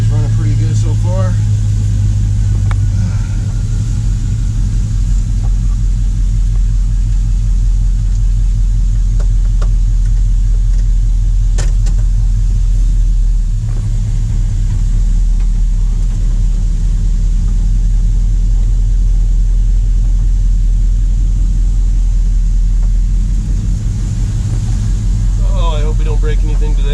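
An LS-swapped car engine runs while the car is driven, a loud deep steady rumble from inside the cabin with a low droning note that barely changes over nearly half a minute, with light rattles.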